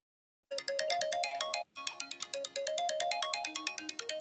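A phone ringtone plays a bright, looping electronic melody of quick repeated notes, pausing briefly before starting again, fairly close and alone without talk.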